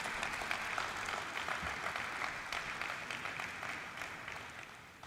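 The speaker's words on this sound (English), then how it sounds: "let us have a good round of applause for Mastek" Audience applause fills a ceremony hall at the National Stock Exchange, marking 30 years of Mastek Limited's listing. Steady, dense clapping runs throughout and slowly fades toward the end.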